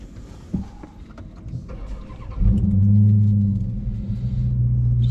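A stock Dodge Charger Daytona Hellcat engine cranks and fires up with a loud rumbling roar, then settles into a deep, steady idle nearby.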